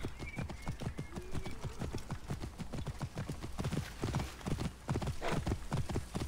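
Hooves clip-clop rapidly and evenly as a horse trots across ground in Assassin's Creed Origins, close and distinct, with a brief whinny early on and someone talking lightly over it.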